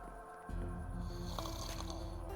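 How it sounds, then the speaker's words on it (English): Villagers snore in a cozy Minecraft modpack, a dense, buzzy game snoring sound that swells and holds steady, layered over background game music. "Kate, you guys snore a little bit too loud, alright?"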